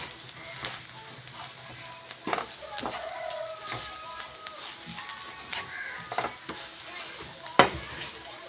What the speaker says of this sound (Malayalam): ഇനിയിപ്പോൾ ഇതെല്ലാം കൂടെ നമുക്ക് നല്ലപോലെ ഒന്ന് ഇളക്കി എടുക്കാം.